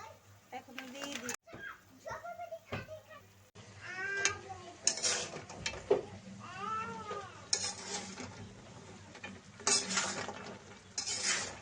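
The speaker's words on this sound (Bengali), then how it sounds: "ভালো করে নেড়ে নিব, নেড়ে ছেড়ে চিনির শিরাটা একদম সাদা করে নেব।" Sugar syrup is stirred in a pan for murali, a fried snack, with intermittent metallic scrapes and clinks of the spoon, while a cat meows repeatedly nearby and a person talks over it.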